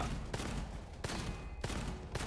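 Rapid gunfire from the first-person shooter Gunfire Reborn, loud, steady bursts with sharp sharper shots near 0.35, 1.0 and 1.6 seconds, continuous action noise throughout.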